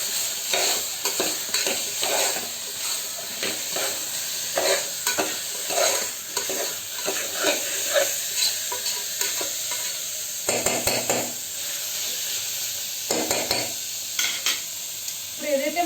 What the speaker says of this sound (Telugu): ఒక 1 మినిట్ ఫ్రై అవ్వనివ్వాలి